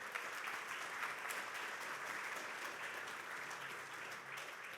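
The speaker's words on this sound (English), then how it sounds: "So quick round of applause for that." Quick round of conference audience applause after a speaker's remark, steady dense clapping heard from a distance, even and fairly faint throughout.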